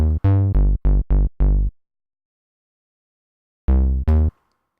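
Sub bass stabs from an FL Studio Patcher preset with the filter cutoff fully open, bright and harmonically rich: a quick run of six short punchy notes, a pause, then two more, clean with no talk.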